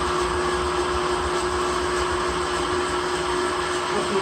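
An electric stand mixer fitted with a whisk attachment whips meringue, giving a steady, even whirring drone with a constant pitch that runs alone throughout.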